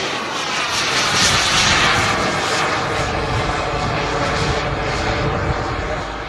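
An F-16 at an air show roars in a broad, continuous jet rumble that stays loud and steady throughout, swelling slightly early on, with no talk.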